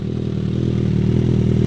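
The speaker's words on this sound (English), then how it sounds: "So let's give it another little rev." A Suzuki GSX-S1000 GX motorcycle engine, after tuning, revs steadily and loudly close up, a dense rumbling drone that holds at a constant level throughout.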